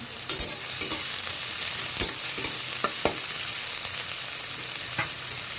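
Chopped onions frying in oil for an okra mustard curry, a steady bright sizzle broken by sharp scrapes and clicks of a spoon stirring them at close range, no voices.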